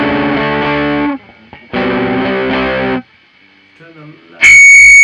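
An electric guitar played through the Deplike app's Metalhead distortion preset rings out in two sustained, heavily distorted chords, each followed by a quieter pause, then a sharp, shrill burst of feedback.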